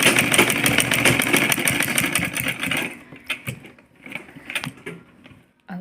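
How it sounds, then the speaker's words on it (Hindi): A domestic sewing machine stitching a frilled chunni runs in a loud, steady whirring burst for about three seconds, then breaks into short, intermittent bursts of stitching with pauses between them. "ये देखिए, हम इस पर सिलाई मार लेंगे।"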